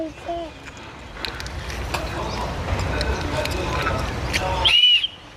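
A watchman's whistle blown once, a short shrill blast near the end over a busy background of chatter and household noise.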